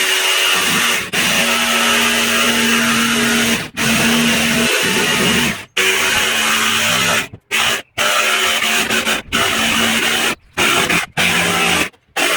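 A power saw cuts wood panels for an amplifier enclosure, a loud, raspy buzzing whine in repeated long passes broken by brief stops and short gaps near the end.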